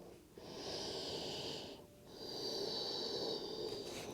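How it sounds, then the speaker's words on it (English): Deep breathing during a vinyasa yoga flow: a long airy inhale, a short pause, then a long exhale, close and soft. "Deep breathing. Inhale and exhale."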